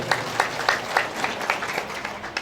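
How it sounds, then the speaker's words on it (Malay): An audience at an inauguration evening for a cultural organization in Dumai gives a round of applause, a soft, rhythmic patter of clapping with regular pulses, moderately distant. "Tepuk tangan untuk itu semua dulu"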